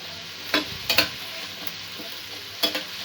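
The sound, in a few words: stirring potato curry ingredients with chopped ginger in pan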